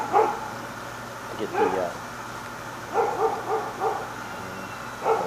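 Several dogs bark in short bursts, fairly distant and muffled, outside near an alleyway, over a steady background hum, while someone speaks briefly.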